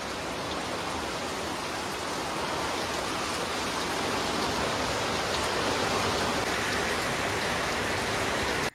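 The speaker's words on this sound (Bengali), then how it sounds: "সেই বৃষ্টি শুরু হয়ে গেছে।" Steady rain falling at home, a dense even hiss of drops on surfaces, continuous and fairly close with no voices.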